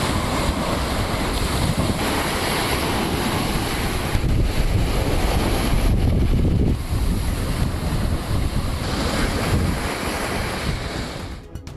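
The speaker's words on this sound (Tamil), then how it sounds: "சங்குமால் கடற்கரை பகுதியில் வழக்கத்துக்கு மாறாக கடல் சீற்றத்துடன் காணப்படுவதுடன் கடல் அரிப்பும் ஏற்பட்டுள்ளது." Rough, unusually violent sea waves surge and crash continuously at Sangumal beach, a loud unbroken roar of surf mixed with wind buffeting the microphone, with no voices.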